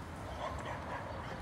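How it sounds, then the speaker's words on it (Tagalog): Dogs barking on a street while touring Tbilisi, Georgia: a short burst of barks and yips amid busy outdoor background noise, with voices nearby. "Daming aso."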